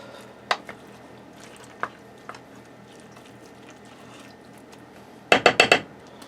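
A spoon works a sausage, tater tot and scrambled egg mixture down into a casserole dish: soft squishing under a low hum, a few isolated clicks, then a quick cluster of sharp clinks near the end.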